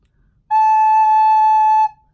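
A recorder sounds one steady, clear note for about a second and a half, with another finger hole covered besides the back and front holes. The tone is pure and close, with no talking over it.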